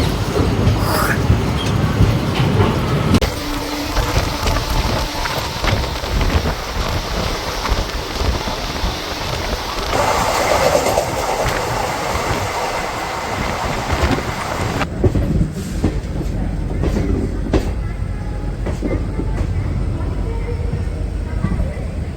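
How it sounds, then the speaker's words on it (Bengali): A passenger train pulls out of Bhubaneswar station after a short halt, its loud rumbling wheels and clattering carriages rolling on continuously with squeals and rain-like hiss, while voices talk over it. "এই মুহূর্তে আমাদের ট্রেন 5 মিনিট হল্ট দেওয়ার পর ভুবনেশ্বর স্টেশন ছেড়ে বেরিয়ে যাচ্ছে"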